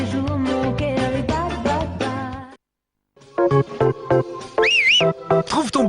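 A brief, wavering whistle rises and falls over upbeat music and a talking voice, loud and close.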